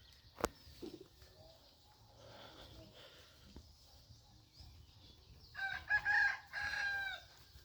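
Roosters crow in the early morning on a foggy farm, with the loudest crows late and close, after scattered faint clucks and bird calls over low background hum.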